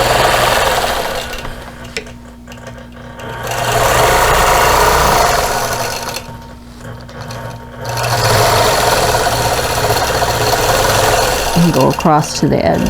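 A sewing machine stitches a tessellating star quilt in steady bursts, stopping and restarting, while someone talks over the motor's buzzing drone.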